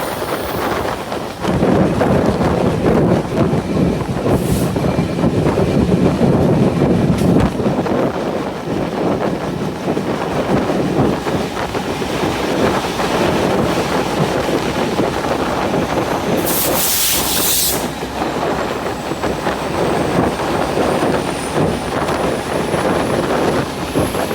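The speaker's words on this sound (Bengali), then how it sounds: "আর আমাদের ট্রেনটি এখন পদ্মবিলা থ্রুপাস করে যাবে।" The Ruposhi Bangla Express rumbles through Padmabila junction, heard from on board as a loud, continuous roar of wheels and carriage with brief higher screeches partway through.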